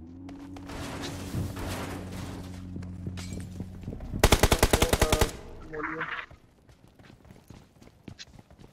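Rapid burst of automatic gunfire in a mobile battle royale game, a loud tight string of shots lasting about a second, over steady game ambience with a brief chatter of other effects afterward.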